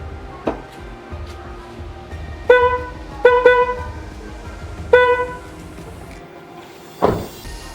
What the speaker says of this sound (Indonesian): Ini klakson lamanya.